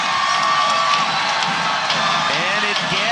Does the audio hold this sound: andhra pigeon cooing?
no